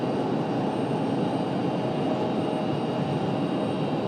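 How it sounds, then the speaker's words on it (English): A Sun Country airliner departing Raleigh Durham International for Minneapolis passes at a distance as a broad, steady, fairly faint roar that holds even throughout, with no voices. "Here comes Sun Country. Off to Minneapolis."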